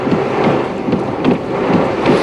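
Heavy rain pours and strong wind roars during typhoon Pedring as it makes landfall in Dinalungan, a loud, steady downpour with gusting surges throughout.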